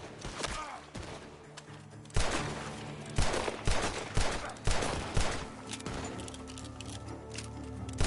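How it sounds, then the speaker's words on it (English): Gunshots ring out from a barn in the Red Dead Redemption 2 video game: irregular bursts of sharp cracks and rapid volleys, fairly distant, over the game's ambient background. "Gunshots are coming from that barn!"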